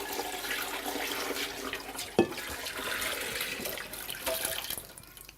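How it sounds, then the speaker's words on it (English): Bone broth poured from an Instant Pot liner into a strainer makes a steady, fairly loud rush of liquid for about five seconds, with a brief clunk partway through and no talking. "I'll just pull the liner out of the Instant Pot, dump it into that strainer."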